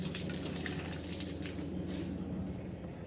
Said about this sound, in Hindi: पानी चला देते हैं इसमें।